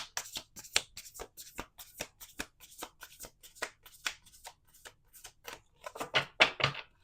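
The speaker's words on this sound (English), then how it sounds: "We're gonna do 2 more shuffles" A deck of tarot cards is shuffled by hand at close range. Quick flicking riffles and soft taps come in an irregular series, with a denser flurry of snaps near the end and no talking.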